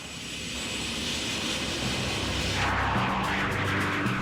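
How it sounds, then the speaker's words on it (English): Military coalition aircraft roar overhead during the 1991 Gulf War air campaign over Iraq, a loud, continuous broadband engine rumble that swells and shifts in tone as the jets pass. "American and coalition aircraft continued to attack Iraqi targets, including Saddam Hussein's palaces"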